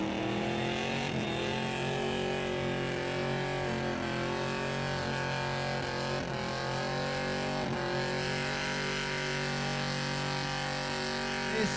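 A V8 burnout car at Summernats revs hard and continuously, a loud, dense engine roar with wavering pitch, held close for the whole stretch with no pause.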